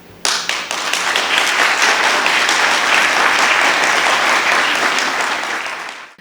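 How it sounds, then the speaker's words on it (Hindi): Loud, sustained audience applause at a mushaira welcoming a female poet, a dense wash of clapping that starts abruptly, holds steady for several seconds and fades at the end. "जोरदार तालियों से इस्तकबाल करें आपकी"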